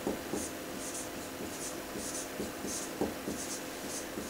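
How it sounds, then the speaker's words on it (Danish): A pen writes a word on paper in a phonics lesson, with faint scratchy strokes repeating at a steady, close rhythm against quiet room noise. "Det bliver så til sil, g, kjole, og ordet skrives på facestregen"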